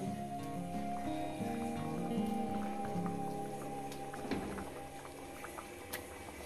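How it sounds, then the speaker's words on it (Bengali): Fish curry gravy boils in a pot with soft, steady bubbling and scattered small pops, faint and close by, with no talking. "বন্ধুরা ঝোলটা আমার ফুটে উঠেছে"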